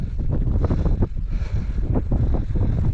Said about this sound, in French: Par contre il y a un vent.